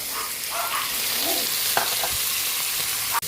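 Chicken liver frying and sizzling in a pan with garlic and onion, a steady broadband hiss with occasional stirring scrapes and clicks, close and fairly loud with no voices.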